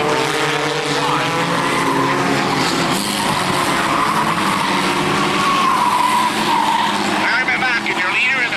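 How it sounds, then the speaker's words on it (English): Race cars in a Sunday drivers division event on an oval racetrack, a dense, continuous roar of engines with tire squeal, loud and steady throughout. "Sunday drivers division all driving to the line."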